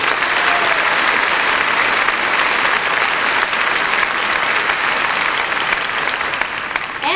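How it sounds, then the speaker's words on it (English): A large audience applauds loudly and continuously at a 1979 concert held at the performer's old high school, a dense wash of clapping throughout. "How about a hand for Anita Ball?"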